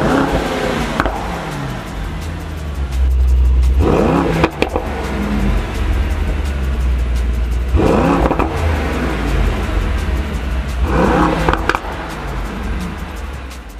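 A Mercedes-AMG GT 4-door Coupé twin-turbo V8 revs hard repeatedly, roaring up and dropping back in several loud pulls, with crackling pops between revs and no talking.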